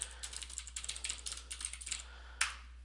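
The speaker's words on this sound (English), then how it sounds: "I can add notes simply by typing" Someone types on a computer keyboard, a quick run of light, irregular key clicks close by, ending in one sharper, louder keystroke.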